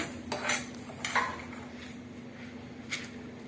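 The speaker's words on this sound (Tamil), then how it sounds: "நம்ம வறுக்க வேண்டியதெல்லாம் வறுத்து அரைச்சி வச்சுப்போம் சின்ன வானாயை வச்சு" Coriander seeds and spices dry-roasting in a small pan crackle softly while a metal spoon scrapes and taps against the pan in an uneven stirring rhythm, close and fairly quiet.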